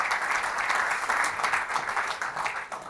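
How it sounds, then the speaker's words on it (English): Business chamber event audience applause, a steady roomful of clapping, fairly distant and even, tapering slightly at the end. "So that's the purpose of the connectors. Please give them a round of applause."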